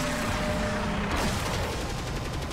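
Gunfire in the video game Warframe, a dense burst of rapid shots and mechanical clatter filling the whole stretch, loud and continuous with a sharper blast just past the middle.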